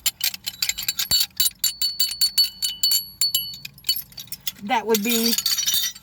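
Glass flamingo wind chimes from Walmart clink and tinkle in rapid, bright, irregular hits close by, with a person speaking briefly over them toward the end.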